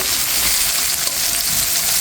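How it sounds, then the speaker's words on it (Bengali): Potatoes fry in hot oil with turmeric and salt, a steady bright sizzle close up and loud, continuous without pauses or voices. "নেড়ে ছেড়ে দিয়ে লাল লাল করে আলুটা ভেজে নেব।"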